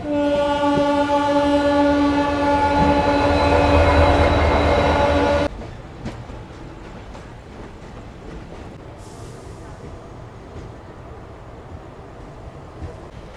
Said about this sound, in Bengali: আমার ট্রেন ঢুকছে সাঁতরাগাছি জংশন রেলওয়ে স্টেশন।